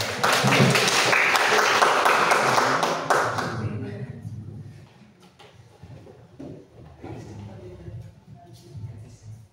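Applause from a school audience, dense clapping for about three seconds that fades out, followed by quieter room sounds, shuffling and a few taps with faint voices.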